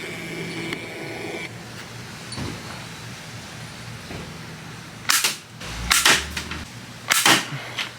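Three shots from a walnut slingshot rifle, each a sharp snapping crack with a brief broadband burst, spaced about a second apart after quieter handling noise.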